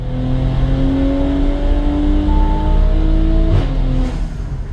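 Audi B9 SQ5 with the 3.0T turbocharged engine revving hard on a dyno, a loud steady roar climbing in pitch through the pull, a brief dip near the end as boost falters, with no voices.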